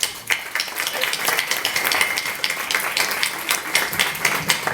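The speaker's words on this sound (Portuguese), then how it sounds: "E eu, agora, é que vos peço um aplauso" An audience applauds at the Lisbon book launch of «Um Muro e Uma Cerca» at FNAC Colombo: steady, crowded clapping that holds close and even throughout, with no talk over it.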